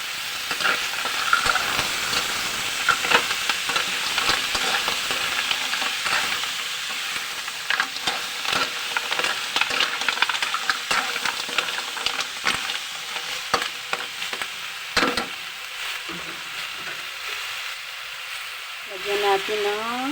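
Mussels added to a hot pan sizzle and fry continuously while being stirred, with scraping and clinks throughout and a brief hissing burst of steam near the end.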